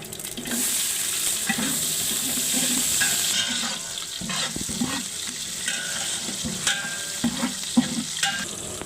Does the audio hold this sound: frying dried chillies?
yes